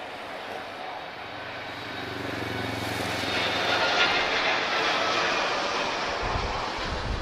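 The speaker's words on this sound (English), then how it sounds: "We have TAP Portugal from Sao Paulo, A330 Neo." A TAP Portugal Airbus A330neo arriving from São Paulo lands at Lisbon Airport, its jet engine roar swelling into a broad, loud rush with wind buffeting the microphone.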